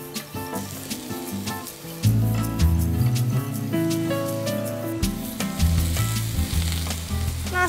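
Sliced luffa hits hot oil in a wok and sizzles loudly and steadily, with a bright, continuous frying crackle over a background of music.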